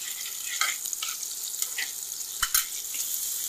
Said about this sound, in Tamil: நல்லா செவக்கிற லெவலுக்கு வதக்கிக்கிங்க.